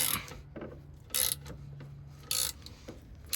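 Brake slack adjuster on a Mack truck being ratcheted tight with a wrench: two short, sharp bursts of close ratchet clicking over a low background hum, with no talking.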